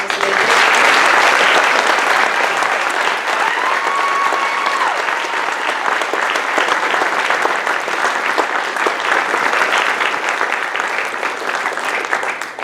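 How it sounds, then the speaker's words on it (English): A graduation ceremony audience gives sustained, dense applause, loud and steady throughout, slowly tapering toward the end. "So let's all give a big round of applause."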